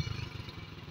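Motorcycle engine running steadily as a learner rider named Abdul Rahman rides it, a low rumbling drone with rattly clatter, fairly near and without talk.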